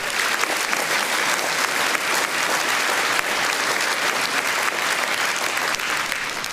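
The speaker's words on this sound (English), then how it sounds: "Can I get a round of applause?" Rally crowd at a Reform UK political event in Swindon applauding, a dense sustained wash of clapping from many hands, steady and loud throughout.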